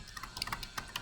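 Quick, light keystrokes on a computer keyboard while a comment line is typed, a short run of crisp, uneven clicks close by, with no talking.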